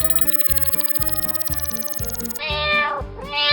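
A person's harmonic, synthetic-sounding meow imitating a cat, loud and close, rising and falling with a rhythmic pulsing beneath it.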